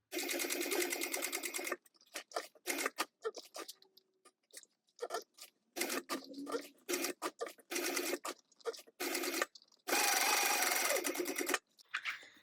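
A sewing machine stitches a bag in several fast, whirring bursts of varying length, separated by short quiet pauses, loud and close.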